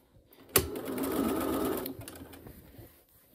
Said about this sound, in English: We're gonna sew along this 8-inch wide